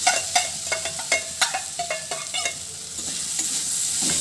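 Boiled, roughly mashed potato stirred into a frying pan over a low flame, a run of sharp spatula scrapes and taps over a steady background sizzle that settles into a smoother hiss.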